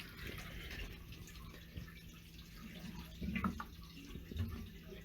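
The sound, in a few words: water draining out through a pressure relief valve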